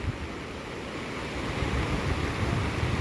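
Strong floodwater of the Sitanadi river rushes past a bridge, a loud continuous roar with low buffeting wind noise on the microphone and no voices.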